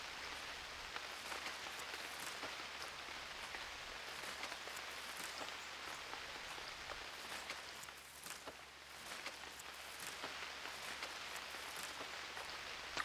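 Steady rain in the survival game UnReal World, a dense even hiss of drops pattering on surfaces with faint scattered ticks, continuous and unbroken throughout.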